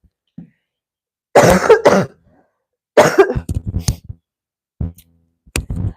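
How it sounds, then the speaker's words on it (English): A short cough, then two harsh bursts of coughing and throat clearing, followed by a few smaller throat-clearing rasps, close and loud. "Okay, I have to cough. Hold on, I'm gonna fix my cough."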